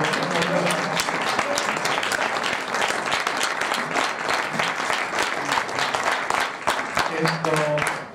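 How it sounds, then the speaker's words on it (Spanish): Audience at an urban-change debate in Bilbao giving sustained, even applause after a talk, with some voices mixed into the clapping. "os pediría un aplauso para Ivonne"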